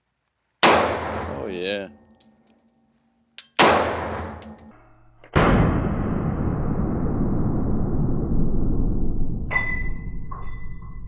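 A Walther PDP F pistol fires several sharp, loud shots at a range, each followed by a ringing metallic decay, with a long echoing tail after the last. Someone speaks briefly.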